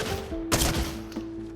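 Fortnite gunfire lands as two distinct sharp shots a moment apart over a steady tonal game hum, the first louder and fuller than the second.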